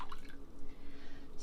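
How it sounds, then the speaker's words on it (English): Warm water is poured into a bowl to make jalapeño cheddar bread dough, giving a steady, continuous close-up splashing pour throughout. "we're going to add 2 cups of warm water"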